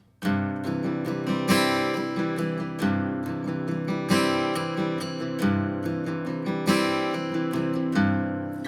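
An acoustic guitar strums steadily in a lilting three-beat pattern, bright chords ringing with a strong accent starting each bar, no voices.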